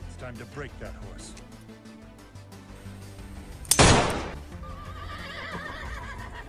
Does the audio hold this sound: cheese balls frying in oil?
no